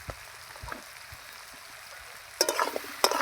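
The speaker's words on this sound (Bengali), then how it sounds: "একদম লাল করে ভেজে নেব, একদম সুন্দর পনিরের মতো।" Pieces of shola kochu (taro stem), salted and dusted with turmeric, frying in hot oil, a faint steady sizzle that turns into louder crackling bursts near the end, with nobody talking.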